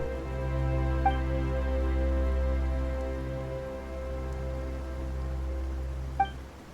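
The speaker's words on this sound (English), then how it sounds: "Why is it raining all of a sudden?" Steady hiss of rain falling on a surface in the video game Genshin Impact, under a low sustained hum, with a couple of faint chimes; no one speaks.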